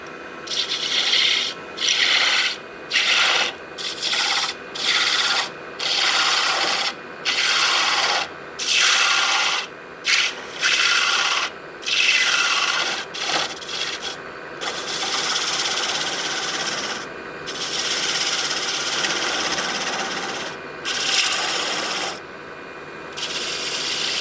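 A wood lathe spins at about 700 RPM while a gouge shapes the recurved foot of an end-grain bowl, giving loud, steady scraping cuts broken into repeated short bursts with brief pauses, then one longer continuous pass; no one speaks.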